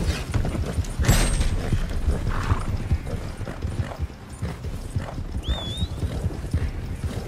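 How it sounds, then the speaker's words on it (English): Hooves pound in a continuous, rhythmic gallop during a horse race in the video game Red Dead Redemption 2, loud and close, with creaking tack and a brief whinny-like cry partway through. "this is a slow-ass horse in this particular race"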